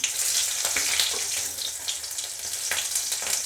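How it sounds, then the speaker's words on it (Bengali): A single green chili tempering in hot oil, sizzling loudly and steadily with dense crackling pops, no talking. "কাঁচা লঙ্কা, একটা লঙ্কা আমি ফোড়ন দিলাম"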